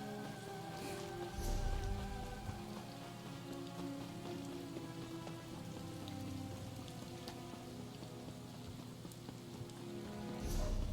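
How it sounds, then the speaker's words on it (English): Steady rain patters on a surface as a soft, even ambient wash with light droplet ticks, swelling slightly at the start and end and staying faint throughout. "my rain sounds were still on"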